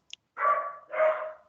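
A neighbor's dog barks twice in the background, each bark drawn out and fairly loud, separated by a brief pause after a faint click at the start.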